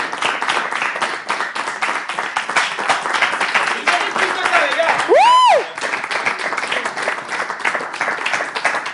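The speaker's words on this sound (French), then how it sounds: "On les accueille avec des acclamations, s'il vous plaît." An audience claps and cheers to welcome a jury at a French reading competition event, a continuous wash of applause filling the room with a brief electronic chirp sweeping through midway.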